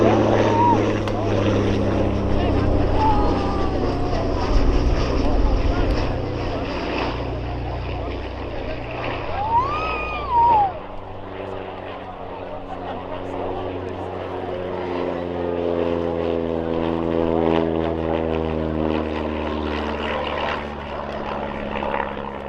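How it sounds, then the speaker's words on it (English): A de Havilland Canada Chipmunk propeller trainer flies a display at Shuttleworth. Its piston engine drones steadily at mid-distance, and the pitch slides and shifts as the plane passes and banks. "de Havilland Canada Chipmunk, created by the Canadian arm of the British parent company"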